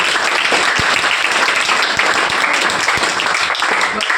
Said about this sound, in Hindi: तो एक बार तालियां इस वास्तविकता के लिए।